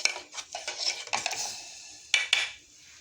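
Sugar and chaat masala being mixed with water in a metal pan, a spoon scraping and clinking against the sides in quick, close strokes, with two sharper clinks near the end and no talking.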